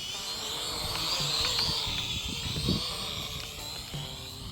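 A Syma X5HC toy quadcopter's rotors whine at a high, steady buzz in very strong wind, with gusty wind rumbling underneath throughout.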